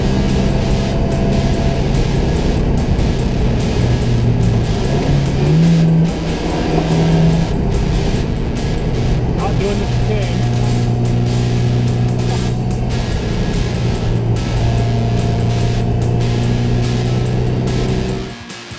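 A Datsun roadster under way, its engine revving and pulling loudly and close through changing gears, with a steady road rumble underneath and no talking over it.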